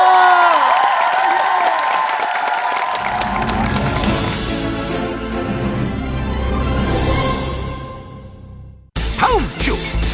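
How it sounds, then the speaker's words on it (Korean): A studio audience at a Korean TV talent show breaks into loud applause and cheering after a voice finishes speaking. The clapping holds as a broad, steady roar for several seconds before cutting off abruptly. "큰 박수가 필요합니다."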